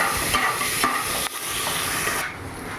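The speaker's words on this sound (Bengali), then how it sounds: "পেঁয়াজগুলো ভেজে নেব।" Onions hiss and crackle in a hot pan, with a few scraping stirs breaking up the steady sizzle.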